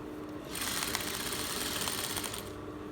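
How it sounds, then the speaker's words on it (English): A sewing machine stitches fabric for an iro and buba outfit in one steady, close run of rapid needle chatter lasting about two seconds, starting and stopping abruptly. "I'm just going to continue my sewing this way."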